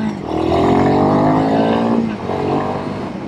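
A Royal Enfield Himalayan 452 motorcycle engine, 40 horsepower, pulls hard and loud in a sustained rising drone that sweeps upward in pitch, eases briefly, then swells again.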